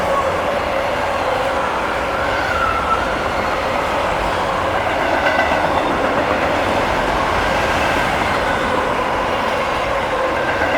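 A CSX freight train with a distributed-power (DPU) locomotive rolls past steadily at close range, its wheels and cars making a continuous loud rumble with rhythmic clatter, while voices talk faintly in the background.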